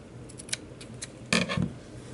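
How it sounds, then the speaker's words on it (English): Scissors snip through tassel threads for a handmade angel ornament, a few light close cuts followed by a louder double snip, with no talking. "And just cut as evenly as you can,"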